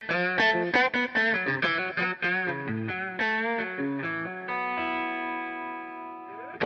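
An electric guitar played through a hybrid Fender and Marshall amp model in Overloud TH2 picks a quick run of distorted notes, then rings out on a sustained chord that slowly decays.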